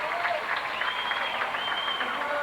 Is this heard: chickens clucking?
no